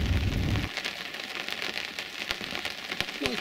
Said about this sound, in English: I think it's been raining all night,